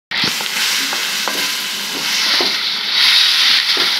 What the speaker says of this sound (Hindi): अब हम इसमें ऐड करेंगे टमाटर